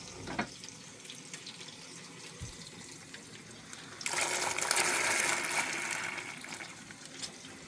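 Water running from a faucet onto cooked food set to drain, a soft trickle swelling into a steady gushing pour midway, then easing, with a couple of faint clunks, no voices.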